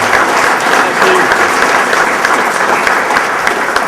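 Sustained, dense applause from a hall audience honoring inductees at a county sports hall of fame induction ceremony, steady and loud throughout without letup.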